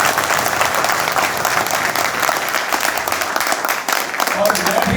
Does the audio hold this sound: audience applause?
yes